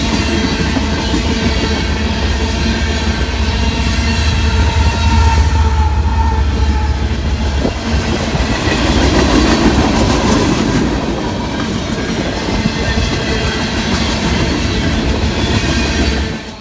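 Union Pacific freight train with an ES44AC locomotive mid-consist rolling past close by, loud continuous rumble and clattering wheels throughout, no talk.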